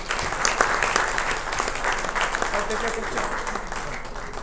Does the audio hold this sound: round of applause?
yes